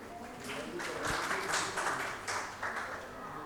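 Audience at a school assembly in Karachi applauding, a steady wash of many hands clapping at moderate distance that swells and holds throughout, with faint voices underneath.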